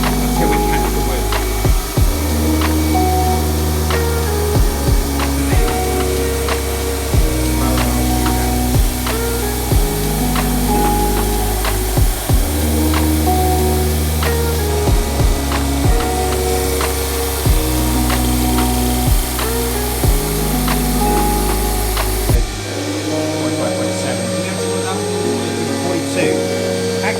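Repeated rasping strokes of a power sander flattening a wooden guitar body to thickness, rhythmic and close, stopping briefly between passes before the final stretch goes quieter.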